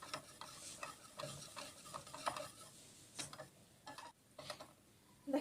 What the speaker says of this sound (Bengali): তাই একটু বেশি সময় নিয়ে কিন্তু আমরা এটা নেড়ে চেড়ে নেব।